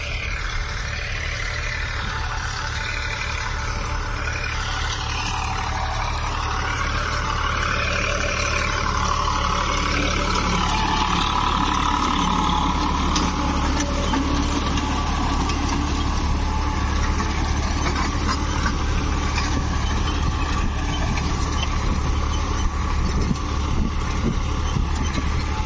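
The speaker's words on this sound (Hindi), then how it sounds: "ये चल रहा है बाजू में Mahindra 265 Ti sarpanch old model." An old-model Mahindra 265 Ti Sarpanch tractor runs nearby in a field during wheat sowing, giving a steady, loud diesel drone with continuous low rumble and engine hum throughout, no speech.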